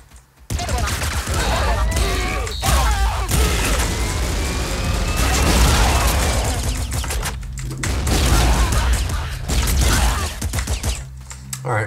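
Super flak cannon blasting in the game Nuclear Throne: a long, loud barrage of overlapping shots and crashing booms that continues almost unbroken for over ten seconds.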